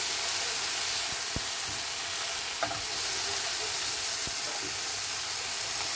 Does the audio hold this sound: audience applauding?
no